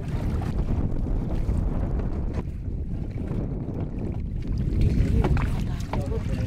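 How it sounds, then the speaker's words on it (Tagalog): Strong northeast monsoon wind buffets the microphone in a constant roar out on the open sea, with faint splashing and occasional voices. "Malakas lang yun talaga yung hangin. Hanging amihan to."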